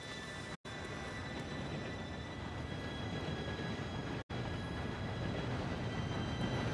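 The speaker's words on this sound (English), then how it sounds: "Train should be here any minute now." Steady, loud rumble of an approaching train in Red Dead Redemption 2, broad roaring noise with faint high ringing tones, continuous apart from two abrupt momentary dropouts.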